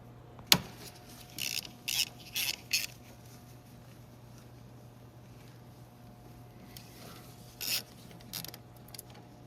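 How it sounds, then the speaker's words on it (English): A 13 mm socket on a ratchet works the starter power-wire nut on a 2014–2021 GMC Sierra 1500 5.3L, giving a few short bursts of quick clicking, close up, with quiet pauses between. "we're gonna need a 13 millimeter socket to take that 13 millimeter nut off"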